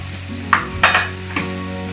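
Cut broccoli, soaked in turmeric and salt water, is tipped into a hot pan for a quick stir fry, giving three short clattering bursts over a steady low kitchen hum.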